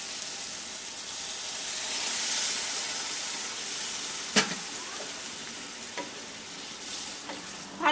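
Boiled masoor lentils frying in a pan for a Bengali-style dal, with a steady close sizzle and hiss punctuated by a few crisp scrapes as a spoon stirs them.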